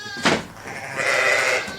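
Sheep at a Norwegian sheep farm during lambing season bleat close by, one short sharp call followed by a longer drawn-out bleat, loud and with no talk.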